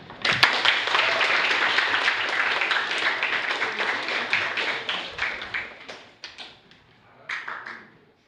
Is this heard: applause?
yes